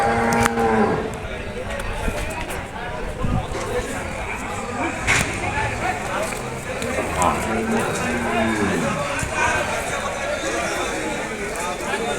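Buffaloes moo repeatedly amid a busy Sunday buffalo market at Erragadda, with people talking and a steady crowd murmur throughout.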